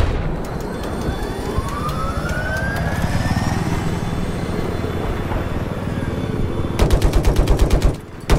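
Minigun fire from a helicopter in a combat video game, with a loud continuous whirring rotor-like roar and a sharp rapid burst of gunfire near the end, no talk.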